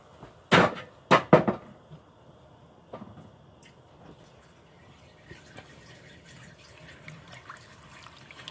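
Water is stirred in a cooking pot on the stove, opening with a few sharp knocks and splashes, then settling into faint swirling and sloshing, with no talking.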